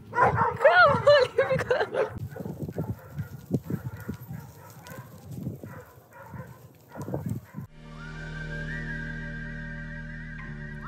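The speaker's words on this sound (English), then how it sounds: "Oh my god, there are dogs. Oh my god, they're coming." Dogs barking in rough, repeated bursts through loud, excited talk, heard during a stealth campout near a town in eastern Bulgaria; the barking stops after about eight seconds, when a steady tonal hum takes over.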